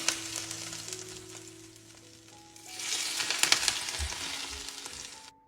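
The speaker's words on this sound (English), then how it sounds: "and then my dad carefully poured on the boiling oil" Boiling oil poured over steamed fish with spring onion crackles and sizzles loudly, a steady hiss that surges midway and continues, with a few soft low thumps near the end before it cuts off.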